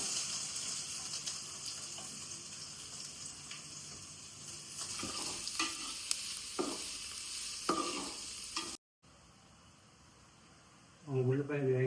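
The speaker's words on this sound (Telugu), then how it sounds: "ఉల్లిపాయలు వేగాయండి." Sliced onions fry in hot oil for a chicken pulav, giving a steady sizzle with scattered stirring scrapes and clinks, ending with a short stretch of speech.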